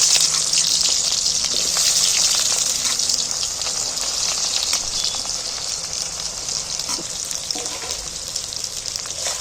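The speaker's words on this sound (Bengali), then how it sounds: "তেলটা দেখো খুব কড়া করে গরম করেছি এইবার আমি পেঁয়াজগুলো কাটা পেঁয়াজগুলো তেলের মধ্যে তুলে দিচ্ছি" Chopped onions go into very hot oil for an egg biryani and fry with a loud, dense, continuous hiss and crackle close by. The sizzle eases slightly over time.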